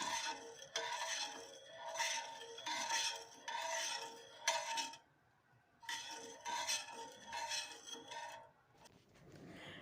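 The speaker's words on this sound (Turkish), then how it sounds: "Güzelce de karıştıralım." Sugar being stirred into a syrup for Ottoman-style Ramadan sherbet, a steady rhythmic scraping and rasping of a spoon against the pot in repeated strokes, pausing briefly midway before resuming, with no talking.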